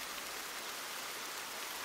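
Rain falling steadily, a soft, even hiss of drops with no breaks, faint and distant, alone with no voices over it.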